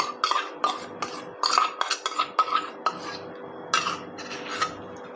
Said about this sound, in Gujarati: 2 મોટી ચમચી જેટલું ખાટું દહીં અને 1 ચમચી જેટલો ગોળ લઈશું એને આ રીતના મિક્સ કરી લઈશું